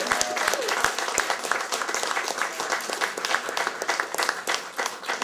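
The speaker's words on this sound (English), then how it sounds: "please give a round of applause to Elizabeth's collection" Warm audience applause at a queer history event, steady crowded clapping with sharp individual claps standing out, holding level throughout.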